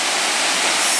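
Salt Creek Falls, an icy waterfall plunging into a valley, heard from a viewing platform as a loud, steady broadband roar with no pauses.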